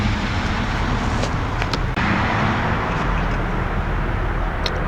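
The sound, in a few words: two cars passing by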